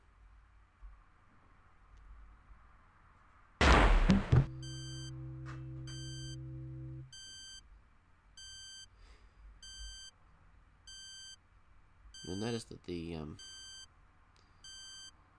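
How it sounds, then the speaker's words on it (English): Electronic reversing beeps repeat at an even, steady pace, with a short burst of talking and a low hum underneath, in the video game Space Quest 3. "the reverse beeping is still playing"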